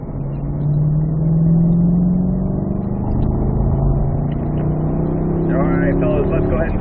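A Corvette accelerates on a race track, its engine note climbing steadily in a smooth, droning rise heard from inside the car. A driving instructor talks over it.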